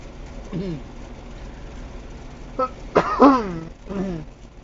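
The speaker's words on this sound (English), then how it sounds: "Sorry, I clear my throat a little." A throat clearing rasps out partway through, a short gravelly burst followed by a brief voiced sound, close and fairly loud against a quiet room.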